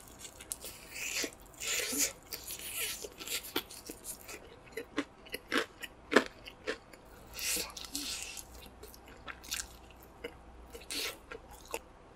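Someone eats barbecue fried chicken dipped in mustard, with close, crisp biting and wet chewing heard in irregular bursts throughout, and a voice talking faintly in the background.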